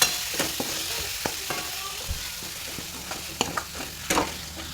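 Chicken pieces sizzle in a masala-coated pan for chicken biryani while being stirred, a steady frying hiss broken by scattered scraping clicks of the spoon, close and unaccompanied by speech.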